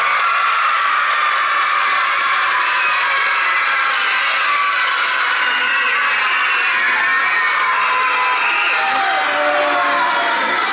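A crowd of schoolchildren lets out a long, loud, sustained group roar mixed with shouts and whoops, filling a school assembly for nearly eleven seconds.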